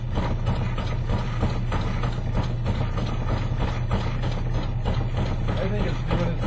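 A homemade plywood shaker table runs at slow speed with a short stroke, making a steady, continuous mechanical rattle and low hum throughout with rapid rhythmic clatter.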